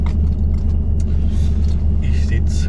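Low steady diesel rumble of a tipper truck idling or rolling, heard from inside the cab, with someone talking over it.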